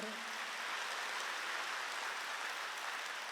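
A church congregation applauds in a steady, even burst of clapping that fills the room from start to finish without any speech.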